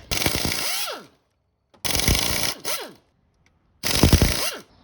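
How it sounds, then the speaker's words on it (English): Ultra slim air impact wrench on the 15mm bolt heads of a 6.7 Cummins crank pulley, fitted between the radiator and engine: three loud, close rattling bursts of hammering, each about a second long, separated by short silences. "Got our ultra slim little air impact here to fit in between the radiator"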